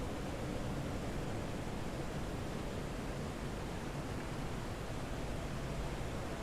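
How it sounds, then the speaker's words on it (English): A waterfall in the video game Lies of P rushes with a constant, dense roar that holds steady at moderate loudness from start to finish. "the fucking waterfall is too loud"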